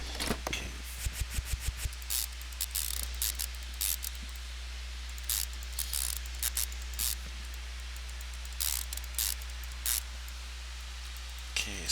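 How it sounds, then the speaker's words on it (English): Ratchet wrench cranking bolts down in the Car Mechanic Simulator 2015 video game, heard as quiet bursts of short clicking strokes repeated across the span over a steady low hum, with no talking. "so crank all these bolts down"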